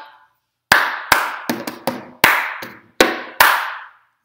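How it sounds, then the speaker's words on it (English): Sharp, loud hand claps from a rhythmic cup game played on a table, eight close crisp claps in a patterned beat with a quick double clap in the middle and a short pause at the start. "There's a clap at the end."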